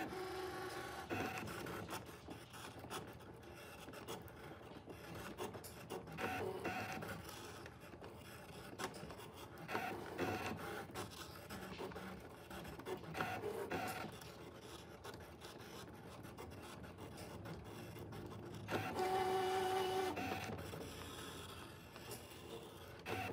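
A Brother ScanNCut cutting machine cuts a T-shirt design, giving a quiet, steady mechanical whirring and scraping drone with faint rubbing and rasping textures and a brief louder motor whine near the end.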